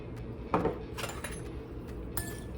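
A spoon scrapes and clinks against a bowl while a chickpea salad with red onion, lime juice, salt and pepper is stirred together, a few quiet taps and scrapes with one sharper clink, close and soft.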